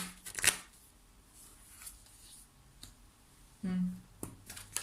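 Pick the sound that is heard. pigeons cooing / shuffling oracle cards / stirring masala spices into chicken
shuffling oracle cards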